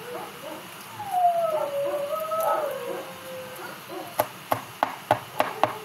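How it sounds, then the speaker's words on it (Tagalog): Knife chopping garlic into small pieces on a board, a quick run of crisp, evenly spaced taps near the end, after a dog whimpers and whines in the background. "Gagmay-gagmayon ako ang ahos"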